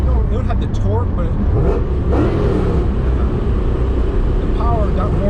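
A supercharged 1994 BMW M8 E31 with a swapped-in M5 V8 and loud exhaust accelerating, a steady engine roar and whine heard from inside the car under people talking.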